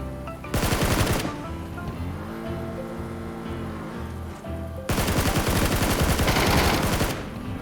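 Loud bursts of rapid automatic SCAR assault rifle fire in PUBG, two sustained volleys with a quieter stretch of background music between them.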